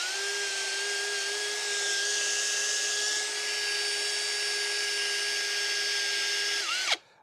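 A hand auger bores through wood for a traditional bread oven doorframe, a steady whining, grinding tone held for about seven seconds before stopping abruptly, close and loud with no talking.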